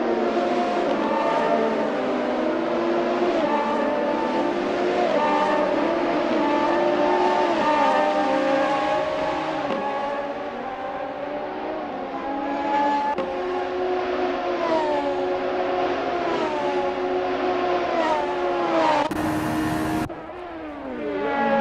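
Radical SR3 race cars at Mosport in the Assetto Corsa video game, with engines droning loudly and continuously, their pitch rising and falling through gear changes and acceleration.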